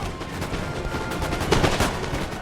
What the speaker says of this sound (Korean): 발포 전방에 적에게